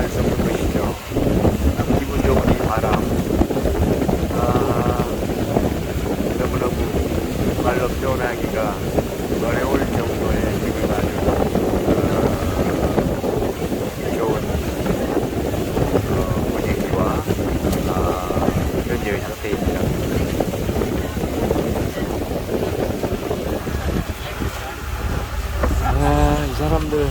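Strong wind buffets the microphone on a river boat travelling from Bokeo to Luang Prabang in Laos, a steady roaring rush with engine hum beneath and voices talking faintly through it.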